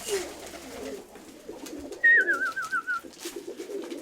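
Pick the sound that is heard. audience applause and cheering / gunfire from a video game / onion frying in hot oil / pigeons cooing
pigeons cooing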